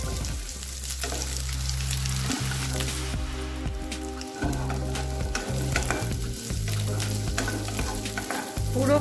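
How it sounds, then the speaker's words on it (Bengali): Chopped onion sautés in ghee for shahi paneer, giving a loud, even sizzle with brief breaks and scraping as it is stirred, with no voices. "আরো 2 চামচ ঘি আমি দিয়ে দিচ্ছি, দিয়ে এর মধ্যে দিয়ে দিচ্ছি আমি পেঁয়াজ কুচি"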